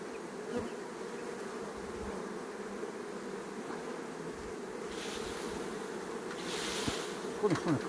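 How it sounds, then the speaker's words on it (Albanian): Bees buzz around a beehive in a steady, dense droning hum, fairly close and continuous, with a few brief louder buzzes passing near the end. "Bleta e këthi prapë."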